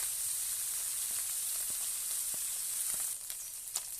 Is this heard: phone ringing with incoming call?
no